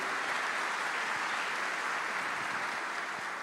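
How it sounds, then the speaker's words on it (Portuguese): Applause from a church-linked audience at a Christian podcast taping, heard as a steady, even wash of many hands clapping throughout, with no distinct voices above it. "Aleluia, para aplaudir mesmo."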